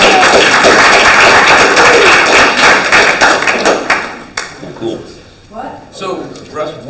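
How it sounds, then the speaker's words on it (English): A meetup audience claps at a marketing automation and AI event, a burst of loose, uneven clapping that fades after a few seconds into scattered taps, thumps and murmured voices. "Can we all clap again?"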